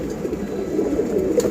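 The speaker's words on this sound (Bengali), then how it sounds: "মানে সিলভার কবুতর" Silver pigeons, a show breed kept in a home loft, coo in a low, steady murmur that carries through the whole stretch without pause, with no voices over it.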